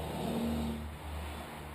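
Car traffic passes on the road outside an open garage, a steady engine drone with one vehicle rising and fading, heard from indoors at moderate distance, with no talk.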